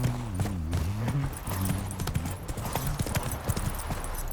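Hooves of the horse Roach clip-clopping in a quick, even trot in The Witcher 3, close and loud, with a few short tonal sounds over the early part of the rhythm.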